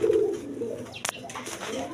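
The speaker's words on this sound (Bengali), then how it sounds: "এখানে এক পেয়ার আপনারা দেখেন ব্ল্যাক কালারের বিউটি কবুতর আছে" Black Beauty pigeons, a big-sized breed pair, cooing close by in a pigeon market setting; a low, soft rolling coo runs through the first half, with a brief sharp click near the middle and faint background chatter.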